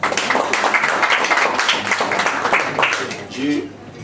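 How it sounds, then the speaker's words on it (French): An audience at a political party rally claps loudly in a dense, steady burst of applause mixed with voices, which fades toward the end. "j'aimerais demander à tout le monde d'applaudir cela"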